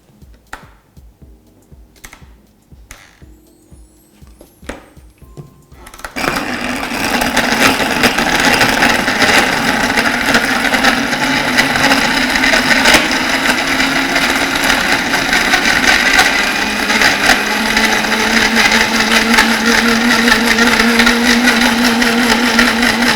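After several seconds of clinks and handling taps, a blender kicks on and blends milk, dark chocolate milk and unsweetened condensed milk with a loud, continuous whirring roar that stays steady until the end.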